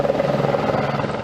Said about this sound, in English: Numerous helicopters are scooping water from the nearby Squamish River in Brackendale to fly over 3 kilometers to drop on the fire